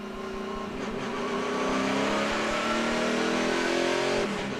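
Several NASCAR race trucks rolling back onto the racetrack under yellow flag conditions, their engines droning together in steady, overlapping harmonic tones that build slightly and hold at a constant roar.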